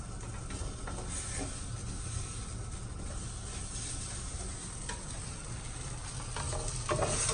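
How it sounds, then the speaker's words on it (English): Onions sauté in balsamic vinegar in a hot pan, giving a loud, continuous sizzle and hiss with no voices, steady throughout and swelling slightly at the end. "some of those onions that are kind of sautéed, but sautéed in a balsamic"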